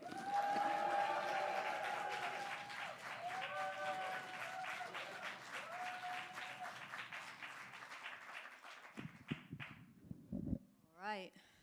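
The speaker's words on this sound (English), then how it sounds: "can we please put our hands together, do a round of applause, stomp our feet, and make some noise, please, for the wonderful Esther Koch" Audience applause and cheering welcoming poet Esther Koch at a poetry slam, loud and sustained for about nine seconds with whoops and shouts over it, then fading into scattered claps and stage noise.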